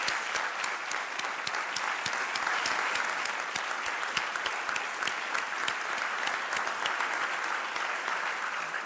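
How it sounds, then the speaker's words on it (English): Sustained applause from a commencement ceremony audience, dense steady clapping from many hands at an even level throughout, with no voices over it. "Let's give them a round of applause right now."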